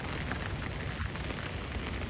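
Rain falls steadily in a continuous dense hiss, close and even, with no voices over it.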